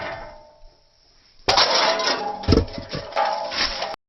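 A karate chop strikes a piece of aluminum in several sharp, close impacts with a metallic clatter after a quiet lead-in.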